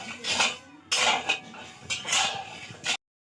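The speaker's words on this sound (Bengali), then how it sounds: "চিনিগুলো খুন্তি দিয়ে গুলিয়ে নেব" A spatula stirs sugar in a pan, knocking and scraping against the metal in three loud bursts with short pauses between, then stopping abruptly.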